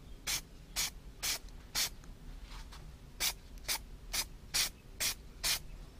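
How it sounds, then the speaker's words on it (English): Nine short separate hisses from a spray can coating a car shift knob for a Mazda RX8, each burst about a quarter second, in an uneven rhythm, close and fairly loud over a quiet background. "Okay, I think the can is ready. So now let's go and paint the knob."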